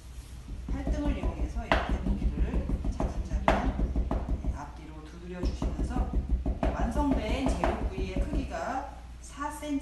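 Pork loin sliced across the grain with a kitchen knife on a cutting board, a steady run of quick rhythmic chopping taps with a short pause midway, close and clear under someone speaking over low background hum.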